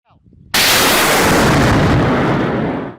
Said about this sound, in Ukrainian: Перша ракета пристрільна після коригування і запуску другого снаряда по окупантам.